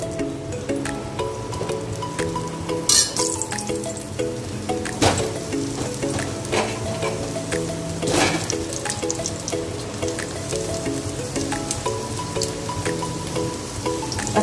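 Cut potatoes fry in hot oil in a pan, a steady close crackling sizzle with a few sharper pops, running alongside soft tonal background music.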